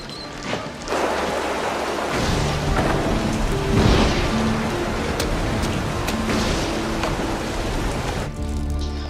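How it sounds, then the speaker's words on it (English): Rain falls steadily outside during a thunderstorm, a dense, close hiss of drops on surfaces that holds loud and unbroken, with a few sharper hits and a faint low rumble beneath. "It's raining outside."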